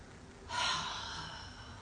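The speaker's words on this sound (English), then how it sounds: "let's take a nice deep breath" A single deep breath drawn in during a guided relaxation, heard as one soft, airy inhale that swells and then fades gently, close to the mic and quiet, with no talking.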